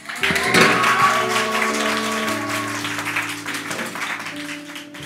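Applause in a church service for the youth and children of Philadelphia International School: sustained, dense clapping from a congregation that swells quickly and holds steady, with sustained keyboard chords ringing underneath.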